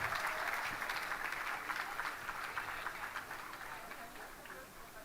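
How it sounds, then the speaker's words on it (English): Crowd applause for Team USA at the finals of a junior surfing world championship in El Salvador, steady dense clapping held for the full stretch and tapering slightly toward the end, with faint voices mixed in. "Big round of applause for Team USA."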